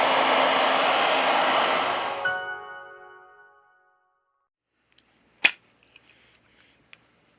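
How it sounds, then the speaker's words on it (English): A heat gun warms the back of a Samsung Note 20 Ultra phone to about 90 °C to soften it for opening. A loud, steady blower roar fades out after about three seconds, then one sharp click and a few faint taps follow. "With the help of a heat gun, we apply 90 Celsius degrees during 4 minutes."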